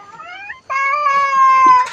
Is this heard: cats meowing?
yes